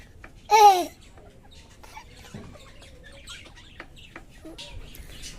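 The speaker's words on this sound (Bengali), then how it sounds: "আর এই যে এখানে মুরগিগুলো" Pet hens in a backyard enclosure: one loud, sharp squawk near the start, then faint scattered clucks and small chirps against a quiet background.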